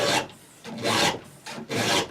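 A file strokes along a chainsaw chain to sharpen it, making three rhythmic, close, rasping scrapes with short pauses between them.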